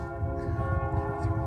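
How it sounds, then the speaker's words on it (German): Church bells ring across France in an evening peal, a steady, dense bronze tolling with sustained overlapping tones and no voices. "Im Zeichen der Verbundenheit läuten gestern Abend in Frankreich landesweit die Glocken der Kirchen für 10 Minuten."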